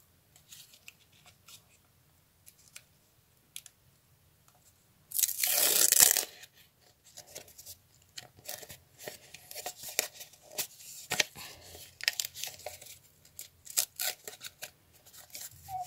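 Scissors snipping and crinkling a paper surprise packet open: a loud burst of rustling paper, then a long run of small crisp cuts and crackles close by, with no talk.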